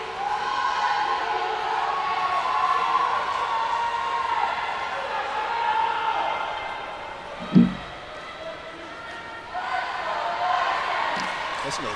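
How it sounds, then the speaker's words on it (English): Spectators cheer and roar steadily at a Bucknell swimming and diving meet against Army, a dense indoor crowd noise with one sharp thud midway and a fresh swell near the end. "Listen to the crowd here."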